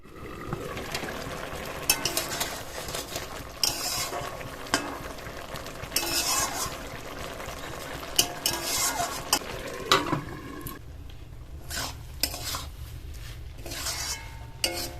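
Lentils cooking in a pot with vegetables such as aubergine, stirred now and then as the lid is lifted, giving a soft bubbling sizzle, repeated scraping and clinks of a spoon on the pot, then quieter moments.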